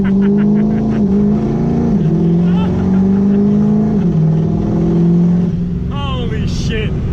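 A turbo Powerstroke diesel truck on drag slicks launches hard, its engine droning loud and steady with rising and falling revs heard from close by, and a voice breaks in near the end.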